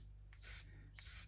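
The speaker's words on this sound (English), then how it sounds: "This is very old, light sandpaper, so it's only taking off a tiny bit at any one time." A guitar nut is rubbed with old, light sandpaper in two soft, brief rasping strokes, faint and close, with a low steady hum underneath.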